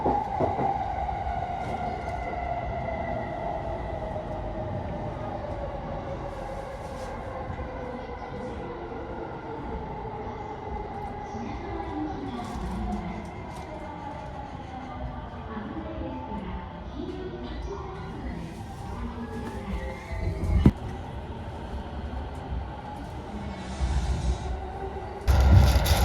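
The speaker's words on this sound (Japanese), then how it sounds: "この電車は常磐線快速取手行きです。" A Joban Line rapid train bound for Toride runs along with a continuous rumble and a falling motor whine, and a faint announcement voice is heard before a louder clunk near the end.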